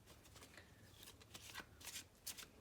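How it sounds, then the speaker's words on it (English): A deck of playing cards being shuffled during a card trick, with several quick riffling bursts close by, crisp and fairly quiet, with no talking. "Give it another shuffle,"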